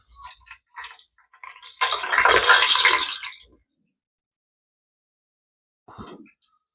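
Whole spices, peppercorns, cardamom, cloves, cinnamon and bay leaves, drop into hot oil for biryani with a brief loud sizzle and crackle that fades within a few seconds. A faint clink follows later.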